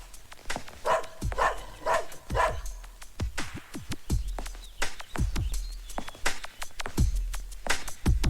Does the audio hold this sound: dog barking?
yes